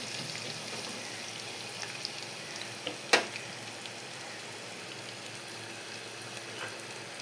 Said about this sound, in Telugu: తర్వాత జీలకర్ర కూడా యాడ్ చేసుకోవాలి. ఇవన్నీ ఆయిల్లో మంచిగా మగ్గిపోవాలి.